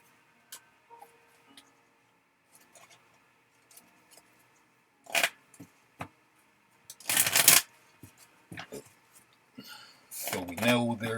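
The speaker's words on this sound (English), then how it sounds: "Shuffle these in there." Playing cards being shuffled, a deck riffled in several bursts during a card game: light ticks and taps early, then loud rapid flurries of card riffles near and close.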